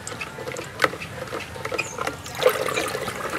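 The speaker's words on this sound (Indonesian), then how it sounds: "Kita akan aduk lagi." Fertilizer dissolving in water is stirred by hand, producing soft liquid swishes with a few sharper clinks and taps at irregular moments, close and fairly quiet.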